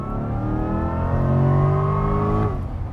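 A 2024 Corvette E-Ray engine revs in crossover mode, loud and close, a sustained rising-then-falling drone with strong harmonics that holds steady before easing off at the end, with no talking.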